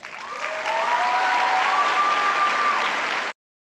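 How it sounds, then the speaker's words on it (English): Audience applause from a speech and debate performance, a steady wash of many hands clapping that swells quickly and holds at an even, fairly loud level for about three seconds before cutting off abruptly. "you can tell like the audience is clapping and laughing in between"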